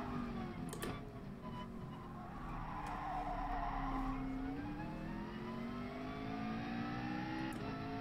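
A McLaren race car in Gran Turismo Sport drones along at high revs while its tires scrub and squeal, with the engine pitch sweeping as it bumps over curbs, steady and close.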